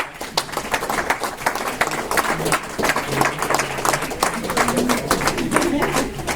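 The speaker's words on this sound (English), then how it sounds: "please stand and give them a round of applause" Audience at a business opportunity event in Toronto applauding senior directors, dense continuous clapping with crowd noise and some voices mixed in.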